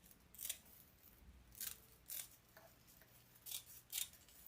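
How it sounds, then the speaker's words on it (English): Sharp scissors snipping through deco mesh, several crisp, faint cuts spaced irregularly, close but quiet against a soft background, with no voices. "Make sure you use the sharp scissors"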